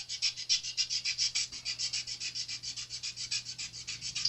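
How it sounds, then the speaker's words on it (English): Fine sandpaper is rubbed over the fret ends of an Epiphone Flying V guitar in a steady back-and-forth rasp, about four strokes a second, close and even, with no talk. "All you're doing is taking off the burrs and cleaning it down."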